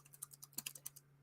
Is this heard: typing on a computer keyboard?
yes